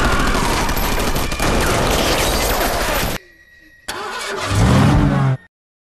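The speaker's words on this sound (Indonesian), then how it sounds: "tiba-tiba saja sebuah truk lain menerobos masuk" In a film scene, a truck smashes into an empty workshop with a dense, loud burst of crashing and engine roar. A short gap follows, then a second heavy surge before it cuts off abruptly.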